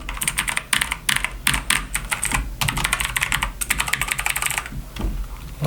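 Rapid, steady keystrokes on an Azio MGK L80 keyboard fill the whole stretch, close and fairly loud, with a brief pause near the end and no talking.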